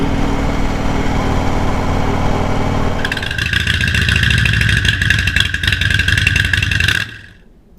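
A 2015 Harley-Davidson Road Glide Special in flat black, its engine idling with a low steady rumble, then rising in a close, loud rev before cutting off near the end.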